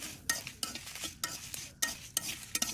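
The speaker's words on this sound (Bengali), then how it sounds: "কড়াইতে দিয়ে দিলাম কিছু গোটা ধনিয়া, গোটা জিরা আর দিয়ে দিলাম শুকনো মরিচ। তারপর সবগুলো একদম মুচমুচা করে ভেজে নেব।" Whole coriander seeds, cumin and dry red chillies are stirred and scraped around a dry wok, giving a run of irregular rattling, scratchy sweeps with a faint background crackle, close and moderately quiet, with no voices.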